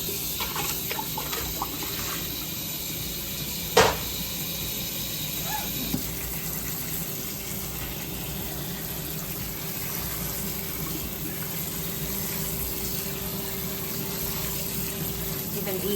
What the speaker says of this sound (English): Drain your water, rinse your beans.